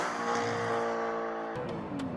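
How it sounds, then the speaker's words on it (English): Audi R8 Type 42 with a six-speed gated manual, its engine and exhaust giving a steady, moderately loud drone with a pitch shift near the end, no talk. "It sounds so freaking good. Like, that exhaust, the engine, everything."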